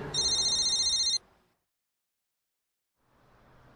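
A telephone rings once in a fast, harsh electronic trill that cuts off abruptly, then near silence before faint low background noise returns.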